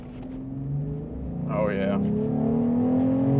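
V6 Ram 1500 pickup fitted with a K&N cold air intake, engine droning steadily and rising in pitch as it revs up, heard from inside the cab with a brief spoken exclamation over it.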